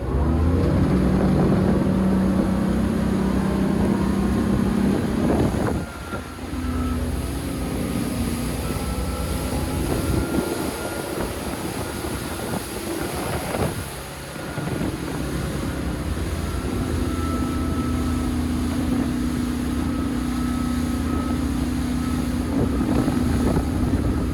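A Four Winns V258 boat's twin Volvo Penta V8 300 hp duo-prop engine roars steadily, its pitch climbing and surging as it accelerates onto plane, with water rushing around the hull throughout.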